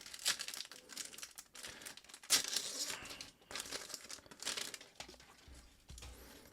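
Foil packs of Savage Crucible trading cards are torn open and crinkled by hand close up, with bursts of sharp crackling, rustling and tearing that come in irregular waves, no talking.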